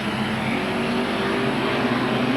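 Late model race cars roar around a 1980 speedway track in a steady, loud, continuous engine drone with no break, as if several cars are running close together.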